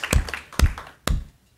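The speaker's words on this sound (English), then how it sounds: "I think you should clap." Three separate hand claps at a school district board meeting, sharp and close, spaced about half a second apart, with no talking over them.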